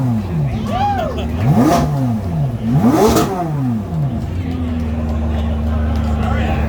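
A 2023 Corvette Z06 engine revs twice in sharp sweeps up and down, loud and close at an outdoor presentation, then settles into a steady idle.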